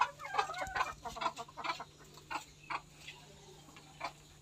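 Several white native naked-neck chickens cluck nearby on a farm in short bursts, busy and irregular, with a faint steady hum underneath and no talking.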